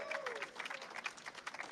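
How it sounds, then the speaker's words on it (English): A rally audience gives a round of applause, dense overlapping clapping at moderate distance with a steady, slightly fluttering texture and no one speaking over it. "Let's give a big round of applause for DSA"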